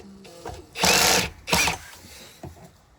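A power driver tightens screws on a Hoover Elite Rewind vacuum cleaner in two short, loud whirring bursts close by, followed by a faint click.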